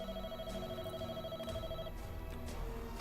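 Landline telephone ringing in a dramatic film scene, a steady electronic ring with repeating tonal bursts over a busy background of music and room noise, fairly faint and continuous.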